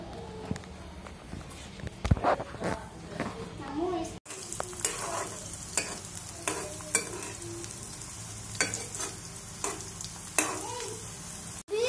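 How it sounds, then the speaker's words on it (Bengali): Onion and garlic frying in oil in a pan, with a steady crackling sizzle and repeated scraping stirs running through the whole stretch, close and fairly loud. "বাদামি মতন পেঁয়াজ রসুন গুলো ভেজে নেব।"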